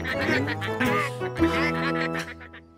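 Several ducks quack close by in overlapping, nasal bursts, a busy cluster of calls that trails off toward the end, in an animated children's cartoon.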